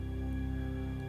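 Sample taken from a movie soundtrack, played in a sampler at its original pitch: a brief, steady, held tonal note with a faint pulsing texture, quiet and alone.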